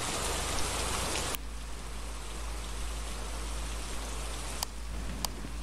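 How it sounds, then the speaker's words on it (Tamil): Heavy rain pours steadily in the horror game Phasmophobia as a dense, even hiss that drops slightly in level early on, broken by a couple of sharp clicks. "மழை வர பேய் மழை கொட்டுது."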